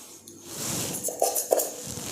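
A fork clinking against a dish while decorating palm-fruit modak, a few light metallic taps close by in a quiet kitchen with no talking.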